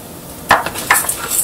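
Chana dal and urad dal drop into hot oil in a pan, giving a couple of sharp clattering hits and a light crackling sizzle over a quiet kitchen background.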